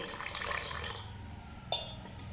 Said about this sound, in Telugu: కొంచెం పుల్లగా ఉన్నాయి అంటే వాటర్ యాడ్ చేసుకోవచ్చండి